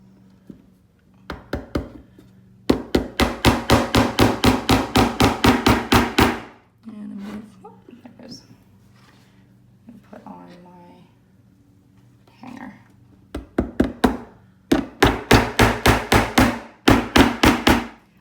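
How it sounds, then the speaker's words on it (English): Rapid bursts of hammer taps drive tiny nails into a metal hanger clip on a handmade wooden farmhouse sign, several quick volleys of close, sharp knocks separated by pauses with quieter handling noises. "And they come with these little tiny nails. I'm going to take my hammer."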